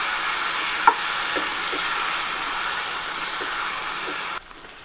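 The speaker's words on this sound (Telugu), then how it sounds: "ఒకసారి ఈ చికెన్ బాగా మిక్స్ చేసుకోండి." Chicken curry being mixed in a pan: a steady hiss of cooking with a few soft spoon scrapes and taps, then the sound drops off sharply near the end.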